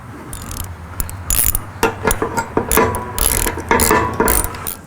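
A ratchet tightens the roof rack bolts on a fifth-generation Toyota 4Runner during a no-drill rack install, giving rapid bursts of close, loud clicking in uneven runs with short pauses between strokes.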